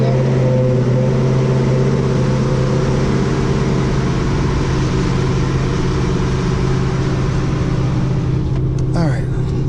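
A supercharged Mercury Marauder engine is held under load on a dyno in second gear, producing a loud, continuous drone with a steady whine and hum that holds for the whole stretch.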